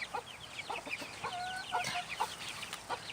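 Chickens in a brooder coop cluck and chirp softly at close range, with short repeated calls and one longer, higher peep scattered over a quiet background.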